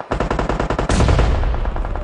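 Automatic rifle fire in a PUBG tournament match on the Erangel map: a rapid string of sharp, loud bursts, then a denser, sustained roar of overlapping shots from close range.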